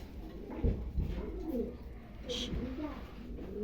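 Pigeons coo softly at a pigeon farm among adult birds, with low repeated throaty calls close by under a person talking.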